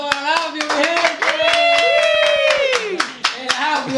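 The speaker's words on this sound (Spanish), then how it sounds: "¡Un aplauso para el Apio, mi gente!" A few people clapping sharply and rhythmically at close range, mixed with loud shouting and cheering voices in a neighborhood setting.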